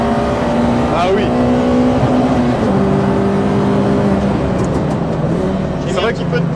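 Peugeot 206 RC engine revving hard on a dry road, pitch climbing and falling as the wheels spin and the throttle is feathered, loud and close inside the car, with people talking over it.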